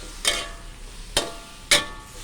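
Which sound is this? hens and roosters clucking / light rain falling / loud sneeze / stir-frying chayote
stir-frying chayote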